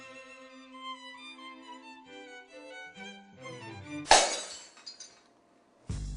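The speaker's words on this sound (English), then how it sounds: "Glass breaks in a science classroom." Glassware smashing in a school science classroom, a sudden loud shattering crash that rings out with tinkling fragments, then a second crash near the end, coming after a stretch of tonal musical notes.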